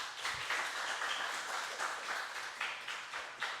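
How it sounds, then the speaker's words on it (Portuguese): A group in an oratory and communication class claps together, a sustained patter of many hands at moderate, slightly distant level with no talking over it. "Palmas."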